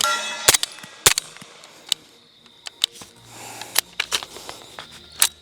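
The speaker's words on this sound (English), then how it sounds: "I'm gonna finish this mag" An airsoft MAWL gun fires on full power mode, giving a few sharp, snappy shots with clicks and handling noises between them.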